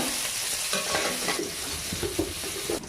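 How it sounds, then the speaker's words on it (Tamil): Loud, continuous sizzling of chili, curry leaves and garlic sautéing in hot oil, with occasional stirring scrapes close by, no voices. "மிளகாய் 1, கருவேப்பிலை, பூண்டு போட்டு அப்படியே வதக்குங்க."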